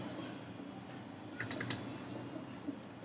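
Quick burst of computer keyboard typing, a handful of light clicks clustered together in a quiet room, fairly faint with steady background hiss.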